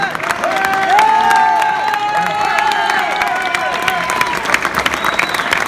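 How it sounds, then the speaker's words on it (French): A crowd at a rugby club presentation applauds loudly with sustained clapping and some cheering, while voices call out and chatter over the applause. "Je vous applaudissez Verne."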